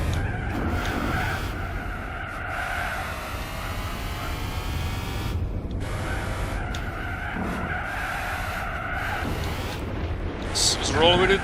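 A car in Gran Turismo 4 skids and spins, with long tire squeals over a steady engine drone that cut out briefly in the middle and return, rising at the end.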